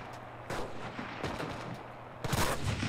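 World War II gunfire in the video game Enlisted comes as a few sharp, loud shots at a moderate distance, with rumbling tails between them.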